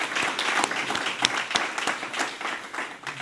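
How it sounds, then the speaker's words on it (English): An audience at a Detroit launch ceremony breaks into applause, a dense patter of many hands with a few louder nearby claps, continuing steadily for several seconds without talk. "We definitely gonna clap for that."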